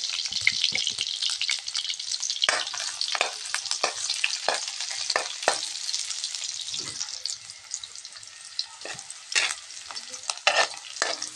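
Spices sizzle and fry in a hot pan, a steady crackling hiss broken by frequent scraping stirs, close and fairly loud with no talking.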